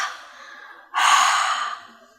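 A person exhales a breathy open-mouthed haa onto a mirror, following a softer breath, loud and close, fading out at the end.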